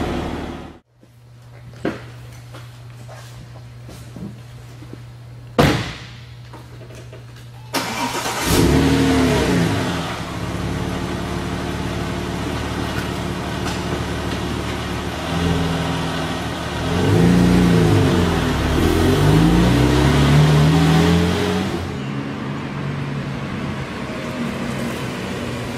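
A Porsche 911 (996) Turbo Cabriolet engine starts with a short crank, idles, then pulls away and accelerates through rising and falling revs, loud and near, with steady road noise in between.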